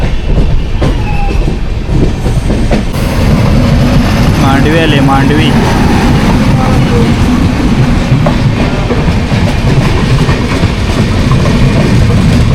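The Jamnagar Tirunelveli Express runs along the track with a loud, steady rumble and faint clickety-clack of wheels. Someone talks over the noise.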